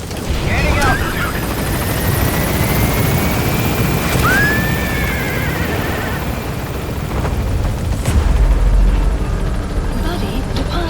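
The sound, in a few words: helicopter departing in the video game Metal Gear Solid V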